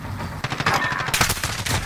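Rapid automatic gunfire from a Call of Duty match crackles in dense bursts for about two seconds, loud and close, with no voices on top.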